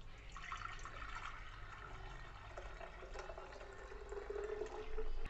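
Dissolved jaggery water being poured through a strainer while making panakam, a continuous trickling and splashing of liquid that swells louder toward the end, close by with no talking.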